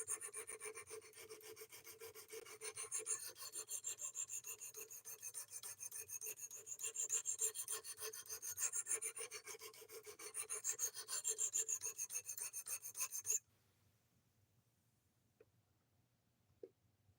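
A knife blade is sharpened on whetstones with steady back-and-forth rasping strokes, close and rhythmic, for about thirteen seconds. Then near silence follows with a couple of faint taps.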